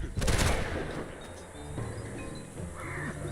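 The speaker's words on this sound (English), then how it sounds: "I don't know why they have fireworks." Fireworks going off in a video game: a loud cluster of popping blasts near the start, then scattered softer crackles and pops through the rest of the moment.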